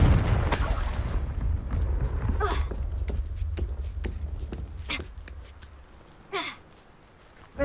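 Confringo, a fiery blasting spell in Hogwarts Legacy, is cast repeatedly. Sharp bursts punctuate a heavy low rumble, with a louder final blast at the end.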